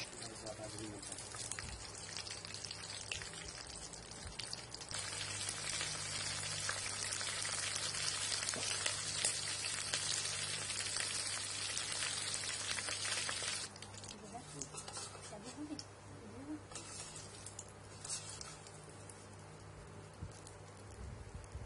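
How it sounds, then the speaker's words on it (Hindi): Neem leaves fry over low heat in mustard oil with a dense, steady crackling sizzle like rain on a surface, louder through the middle and easing later, alone without talk. "धीमी आंच में नीम की पत्तियों को सरसों के तेल में अच्छे से पकाएं"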